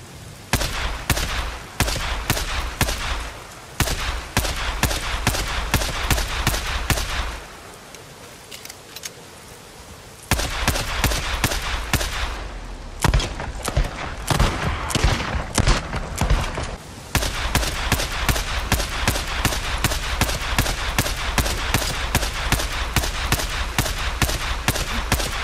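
Rapid bursts of sidearm gunshots from the video game Days Gone, loud and close, firing in quick repeated volleys with brief pauses between strings of shots.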